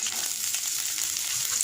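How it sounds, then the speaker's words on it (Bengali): Chopped scallions frying in oil with salt in a pan, giving a soft, steady hiss and faint crackle for a short moment, with no talking. "পরিমাণ মতো তেল, পরিমাণ মতো পেঁয়াজ কলি দিয়ে লবণ দিয়ে আগে ভেজে নিব কিছুক্ষণ"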